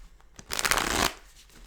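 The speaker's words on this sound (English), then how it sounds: "give us a couple shuffles here" A deck of oracle cards gets one loud, close riffle shuffle lasting about half a second, with a light tap before it and quiet after.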